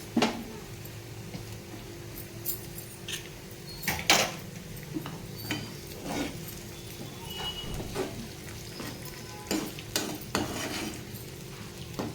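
Beaten eggs, three of them, stirred in a hot frying pan: scattered clinks and scrapes of a utensil against the pan over a low sizzle, close and fairly quiet, with no talking.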